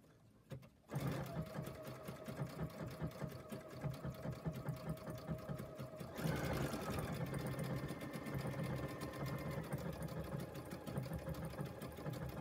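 An embroidery sewing machine stitches through wash-away stabilizer, a fast, steady mechanical hum and needle rattle that starts abruptly and runs continuously up close, shifting slightly in tone partway through.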